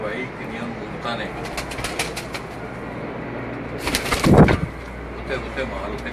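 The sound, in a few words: pigeons cooing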